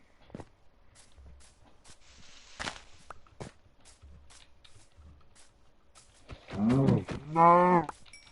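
A Minecraft cow gives a loud, drawn-out moo near the end, preceded by scattered quiet clicks and thumps.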